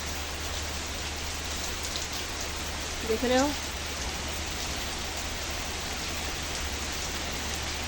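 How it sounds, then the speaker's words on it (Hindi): Heavy rain driven by strong winds in a dark, stormy setting, a steady dense hiss throughout with a brief voice speaking near the middle. "ये देखो बारिश भी उल्टी सीधी आ रही है"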